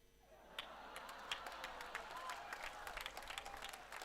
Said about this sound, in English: This is not how we clap for ourselves.